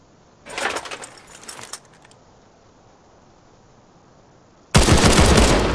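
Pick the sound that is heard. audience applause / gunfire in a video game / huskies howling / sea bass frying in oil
gunfire in a video game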